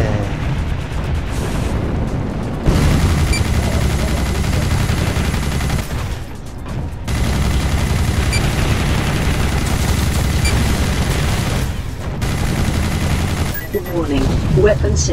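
Weapon fire in the first-person shooter TOXIKK at a LAN party: loud, dense bursts of gunfire and booming blasts almost continuously, with brief lulls and game sounds mixed in.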